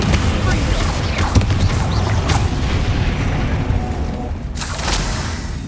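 Spell explosions burst during a spider fight in the video game Hogwarts Legacy: loud, dense booms and crashes with sharp cracks, overlapping continuously throughout.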